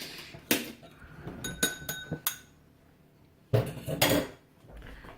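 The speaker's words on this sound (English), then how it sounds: "I'm going to beat up an egg there." Egg beaten in a bowl with a utensil for an egg wash, giving a few irregular clinks and taps against the dish, close and clear, in two short bursts with a quiet pause between.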